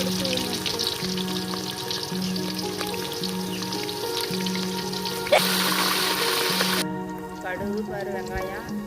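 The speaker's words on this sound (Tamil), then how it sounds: "கடுகு பரு வெங்காயம் கருவேப்பிலை எல்லாம் போட்டு சேர்த்து வதக்கணும் எண்ணெயில்." Mustard seeds, onion and curry leaves sizzling and frying in hot oil for a Tamil fish kulambu, a steady crackling hiss with a faint rhythmic hum behind, ending in a brief louder burst of sizzle.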